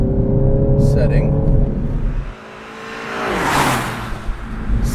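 A 2017 Mini Cooper S four-door with a John Cooper Works tune, set to maximum performance throttle and gearbox modes, drives with a loud, steady engine drone. The pitch drops sharply at a gear change, then climbs again as the car accelerates.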